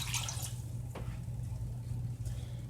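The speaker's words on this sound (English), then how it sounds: "We're going to pour that 1 cup of water in." A cup of water is poured into a pot for candy apple coating, a soft watery splash and trickle over a low steady hum, with a few faint drips.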